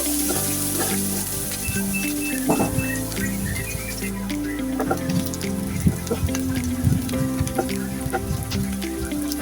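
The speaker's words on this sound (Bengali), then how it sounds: "প্যানে আমি হাফ কাপ পেঁয়াজ কুচি দিয়ে দিলাম পেঁয়াজটাকে হালকা লালচে কালার করে ভেজে নেবো" Half a cup of chopped onions frying in a pan for a spiny gourd and prawn curry: a steady, close sizzle with occasional scraping stirs and small clinks, and no talking.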